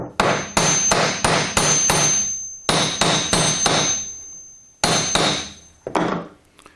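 Rapid metallic hammer strikes flatten the ends of a copper bracelet, coming in quick bursts of ringing clanks with short pauses between groups, close and crisp.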